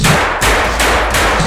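A Thompson submachine gun fired in semi-automatic mode: four loud, rapid, evenly spaced shots, each blast ringing into the next with no pause.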